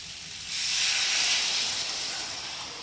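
Water poured into a hot pan of spiced cauliflower for a fish curry bursts into a loud hiss of steam that swells quickly, holds steady and then eases slightly, with no talking.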